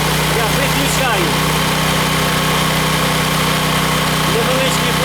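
A Heron 3.5 kW single-phase inverter petrol generator idles steadily with a low, even hum that runs the whole time, while someone talks over it.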